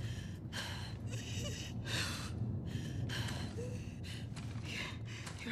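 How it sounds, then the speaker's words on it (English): Labored, ragged breathing from a character in The Last of Us Part II, heavy gasps and sighs repeating in uneven bursts close up over a low rumbling background, with no talk. "Your breathing's worse."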